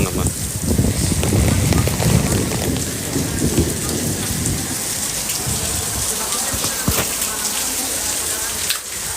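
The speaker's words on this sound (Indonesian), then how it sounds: "Di luar petirnya gede banget." Heavy rain pours down steadily outdoors in Serpong, with rumbling thunder rolling beneath the dense, continuous hiss of the downpour throughout.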